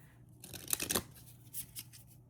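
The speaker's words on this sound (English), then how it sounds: "I feel like I'm going to do another shuffle" A deck of Angelic Realms oracle cards with slightly sticky, gold-edged stock is shuffled by hand up close: a quick riffling flurry followed by a few softer card slides and taps, quiet with no speech.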